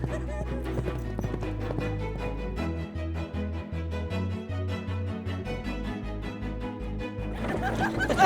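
Horse hooves clip-clop in a steady, even rhythm on a frontier trail, with a whinny rising near the end, all mixed under a prominent music score.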